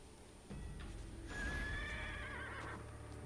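A horse in the video game Neverwinter's Ravenloft module lets out a clear, drawn-out whinny over a low rumbling backdrop and soft hoof clops, heard alone and fairly close.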